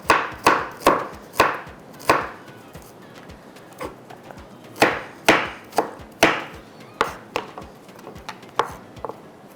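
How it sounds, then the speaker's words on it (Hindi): A knife slices fresh ginger on a cutting board in a series of sharp, close chops, some quick runs of three or four strokes separated by short pauses, with no talking. "अदरक को भी थोड़ा सा स्लाइस में कट कर लेते हैं"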